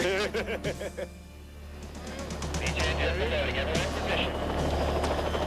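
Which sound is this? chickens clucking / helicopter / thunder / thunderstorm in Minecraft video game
helicopter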